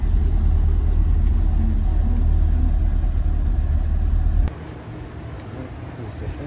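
A classic car engine idles with a steady low rumble for several seconds, then drops to a quieter, rougher hum near the end.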